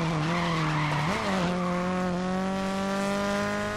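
A car drifts in the racing video game GRID, its tires squealing in a long, loud, steady screech with a wavering pitch over the droning engine, with no talk.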